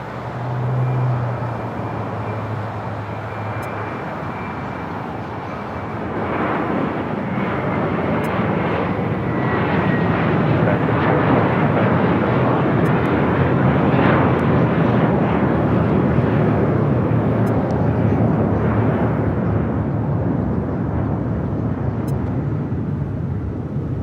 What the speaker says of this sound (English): That is the Cayman Airways 737 MAX 8.